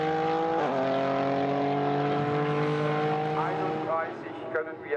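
GT4 race cars, Mercedes and BMW, racing at the Nurburgring, a loud sustained engine whine with strong harmonics holding steady pitch, then shifting as gears change, the noise thinning toward the end while a commentator talks over it.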